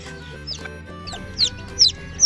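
Hen clucking softly near her newly hatched chicks, with several high chick peeps rising above a steady low background hum; close and moderately loud, no talk.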